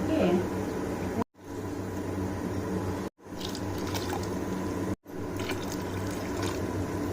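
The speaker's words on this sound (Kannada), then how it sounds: "ಎರಡು ಗ್ಲಾಸ್ ಅಕ್ಕಿ ಹಾಕಿದ್ದೀರಾ ಹಾಗಾಗಿ ನಾಲ್ಕು ಗ್ಲಾಸ್ ನೀರು ಹಾಕ್ಬೇಕು" Water poured from a glass into a pot of rice, four separate trickling pours split by brief silent cuts, heard close over a low background hum.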